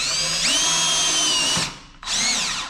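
A power drill drives screws into plastic cup holders, whining at steady high speed for over a second, cutting out briefly, then revving back up close and loud with no talking.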